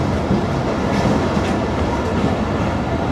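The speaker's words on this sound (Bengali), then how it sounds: "মংলা কমিউটার ট্রেনটি এই মুহূর্তে প্রবেশ করছে খুলনার মোহাম্মদনগর রেলওয়ে স্টেশনে" A Mongla commuter train rolls into Mohammadnagar railway station in Khulna, a close, loud, continuous rumble of wheels and carriages with faint clatter and no talk.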